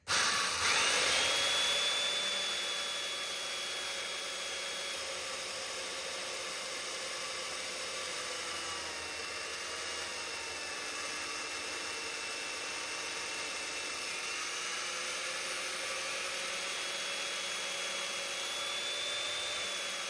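A chain mortiser cuts a test mortise in wood, a loud sustained high-pitched mechanical whine and rasp running continuously and close throughout, with no talking.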